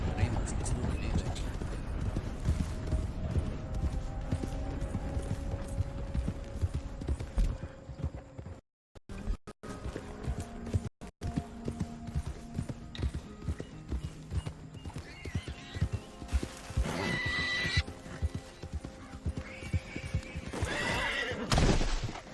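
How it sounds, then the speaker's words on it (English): Hooves clip-clop and horses neigh in the Red Dead Redemption 2 Online video game, a steady galloping patter with whinnies over game ambience, while players talk in Portuguese. "Ô cavalo"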